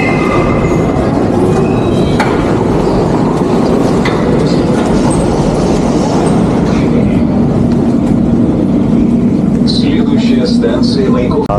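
Loud, constant rumble and rattle of a metro train riding between stations underground, with a recorded announcement voice speaking over the roar.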